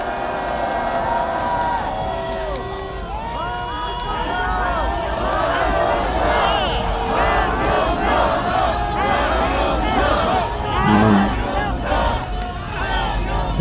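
A large crowd at a political rally opposing a presidential impeachment cheers and shouts to welcome a speaker, a loud, swelling wave of overlapping voices and whoops lasting throughout.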